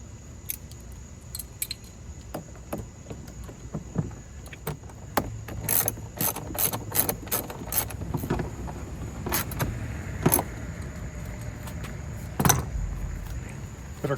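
Hand ratchet tightening screws on a 2024 Ram TRX Final Edition outdoors: scattered sharp clicks build into quick runs of ratcheting in the middle, close and moderately loud over steady background noise, with no voices.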